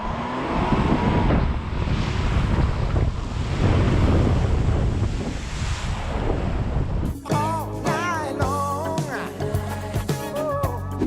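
A VW Amarok Aventura pickup ploughs through deep water with a loud, rushing splash and wind buffeting the microphone for about seven seconds. Music then cuts in sharply and carries on alone.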